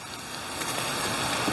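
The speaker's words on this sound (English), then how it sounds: "Can you hear it sizzling?" Cheese and sausage for a chopped cheese sub sizzle on a hot griddle, a dense, steady close-up crackle and hiss with no talking.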